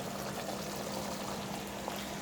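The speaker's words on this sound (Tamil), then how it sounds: "புளி கரைசலை இதில் ஊற்றிட்டேன்" Tamarind water is poured into a pot of oily brinjal curry, a steady, continuous rushing pour that holds at an even level throughout.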